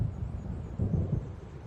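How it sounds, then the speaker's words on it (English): Low, rolling thunder rumbles steadily from a storm approaching in the video game Alan Wake Remastered, deep and distant with a slight swell partway through. "It seems there's a storm coming."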